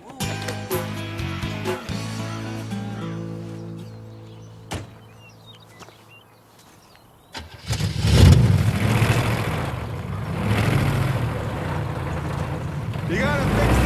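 A car engine with a broken muffler starts and revs, suddenly turning loud and rough halfway through and staying raspy, with talking nearby.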